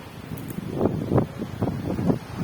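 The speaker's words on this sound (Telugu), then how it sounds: "చూడండి గాలి అయితే ఎలా తాగుతుందో" Gusty wind roars in repeated surges, buffeting the microphone with low rumbling bursts as trees rustle; no voices.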